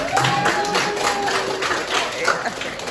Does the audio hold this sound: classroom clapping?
yes